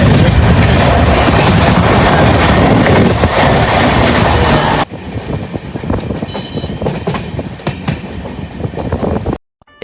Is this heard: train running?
yes